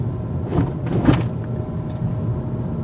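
A 2022 Honda Civic Hatchback crosses a big speed hump, and two quick knocks and rattles from items loose in the cabin sound over a continuous low rumble of road noise.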